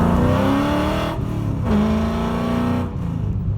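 A coyote-swapped Ford Foxbody's engine roars at high revs as its slick tires spin and squeal in a burnout, the pitch rising and dipping as the throttle is worked.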